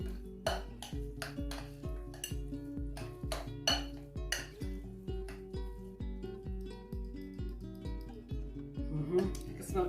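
Chickpea salad ingredients being mixed in a bowl, a steady run of rhythmic clinks and knocks from a utensil against the dish, close and fairly quiet, with a voice talking at times.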